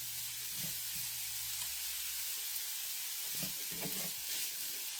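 Potatoes browning in oil in a pan for a chicken pot pie, with a constant close sizzling hiss and a few soft stirring knocks, no voices.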